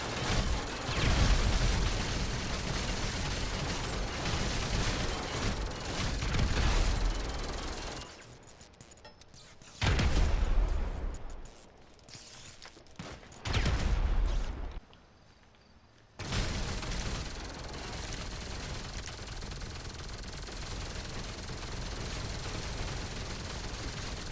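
A sticky bomb detonating in GTA 5 Online, a sudden loud blast that cuts through dense game noise, with short gaps of near silence between bursts.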